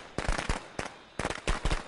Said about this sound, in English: I got firecrackers.